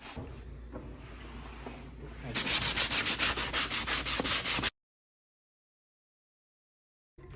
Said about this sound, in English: Then I went back with sandpaper and touched up as needed.